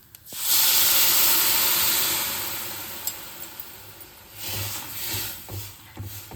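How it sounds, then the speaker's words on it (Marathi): Water poured into a hot pan of soybean-pod curry with crushed peanuts lets out a loud, broad steam hiss that swells quickly, then eases and returns in softer bursts with small clinks. "पाणी ओतते मी"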